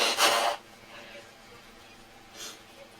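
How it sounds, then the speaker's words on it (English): An adult blows their nose in a loud, breathy burst at the start, followed by a fainter, shorter honk a couple of seconds later, with quiet room tone in between. "I'm going to have to blow my nose"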